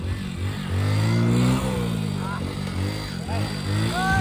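A motorcycle is ridden with its engine chugging and revving close by, pitch rising and falling, while a voice talks over it.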